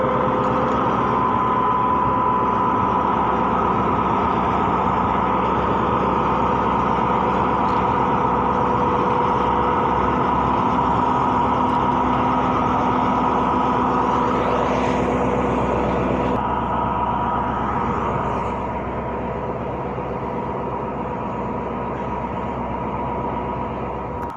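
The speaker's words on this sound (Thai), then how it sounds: "เร่งเครื่อง เร่งเครื่อง" The diesel engine of an express train revs while the train stands waiting at a station, a loud, steady mechanical drone that continues for over twenty seconds and eases slightly near the end.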